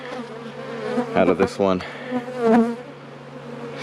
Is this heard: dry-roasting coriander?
no